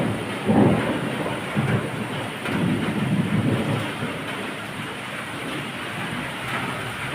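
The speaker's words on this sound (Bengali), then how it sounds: "শুরু হয়েছে বৃষ্টি," Heavy rain pours steadily during a storm while deep rolling thunder rumbles in several separate swells over the downpour, with no one speaking.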